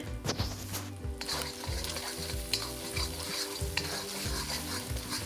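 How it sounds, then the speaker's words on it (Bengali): Eggs seasoned with black pepper and salt are stirred and fried in a pan for chicken fried rice, giving a close, continuous sizzle broken by rhythmic scraping strokes. "ডিমটা হালকা নেড়ে চেড়ে ভেজে"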